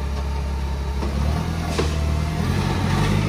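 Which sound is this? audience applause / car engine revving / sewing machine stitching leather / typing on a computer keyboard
car engine revving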